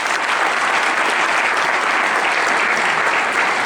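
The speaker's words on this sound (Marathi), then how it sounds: "ज्यांच्या कार्याचा गौरव या ठिकाणी झाला त्यांच्यासाठी जबरदस्त टाळ्या वाजवा" Loud, sustained audience applause at an honoring ceremony where people receive mementos and shawls, steady dense clapping from a large crowd with no break, heard close and full.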